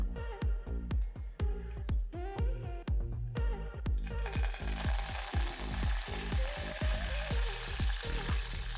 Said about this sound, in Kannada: ಹಾಗೆ ಇದಕ್ಕೆ ಕರಿಬೇವು ಸೊಪ್ಪು ಹಾಕಿ ಒಂದು 5 ನಿಮಿಷ ಫ್ರೈ ಮಾಡ್ಕೊಳ್ಳೋಣ